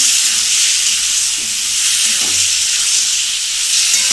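Taro curry mixture, kochur dalna, is sautéed in a pan, giving a steady broadband sizzle and hiss with faint stirring scrapes, continuous and fairly loud throughout, with no talk.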